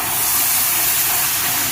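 Milk poured into hot caramel while making mishti doi erupts in a loud, dense, steamy hiss, a continuous rushing sizzle close by.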